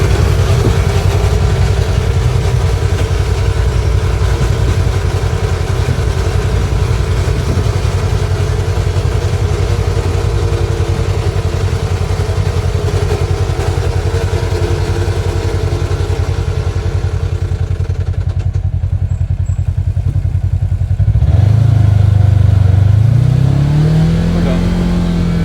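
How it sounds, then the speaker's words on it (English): A nearly new Kawasaki machine with about 20 miles on it has a jumping-out-of-gear fault. Its engine drones steadily and loudly, then shifts around the final seconds into a rising, strained tone. "the machine started making the jumping out of gear noise,"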